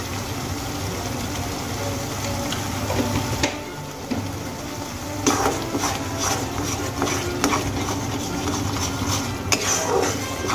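Egg masala being stirred and sautéed in a pan, with steady scraping and clinking of a utensil against metal, a busy continuous kitchen texture that grows stronger after a brief dip.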